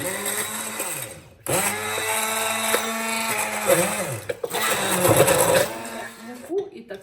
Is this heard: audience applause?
no